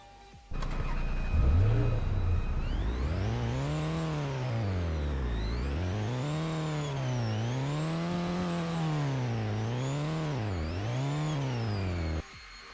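A car engine in the Roblox game revs up and down in repeated rising and falling sweeps, loud and close, starting abruptly and cutting off at the end.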